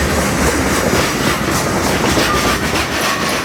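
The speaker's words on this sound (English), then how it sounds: "That's a rock train flowing through Lakeland." A loaded rock train rolling over a bridge in Lakeland, Florida: a loud, close, continuous rumble and rattle of rail cars with clattering wheels and a faint squeal, steady throughout.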